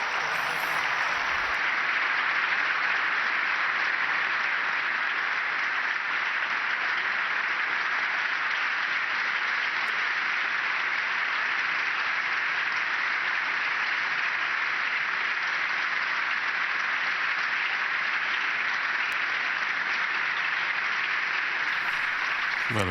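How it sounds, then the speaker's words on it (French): An assembly of diocesan priests of Rome warmly applauds the Pope, a dense, steady clapping that holds at an even level for over twenty seconds without pause. "chaleureusement applaudi par cette assemblée de ces prêtres du diocèse venus rencontrer leur évêque"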